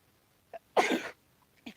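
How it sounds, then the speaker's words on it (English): A single sneeze bursts out, short and moderately loud, inside a store, with faint breath sounds just before and another brief noise trailing after. "Oh my gosh, I have to sneeze."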